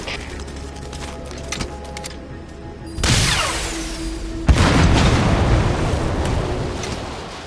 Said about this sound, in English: You destroyed the separator tank. Objectives complete. Though security will be tighter after that explosion.